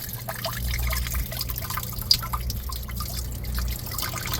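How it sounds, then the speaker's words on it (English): Water trickling and dripping through the hose of an Exo vertical hydroponic growing system, a continuous soft dribble with scattered drips over a low pump hum, close and moderately loud, with no speech. "even though the water is passing through the hose, we still have some restriction"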